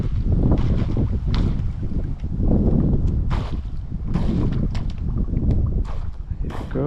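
Pro Boat BlackJack 24 V2 RC boat with a custom prop on a speed run, its motor a steady buzzing roar across the water, heavily mixed with loud wind buffeting the microphone throughout.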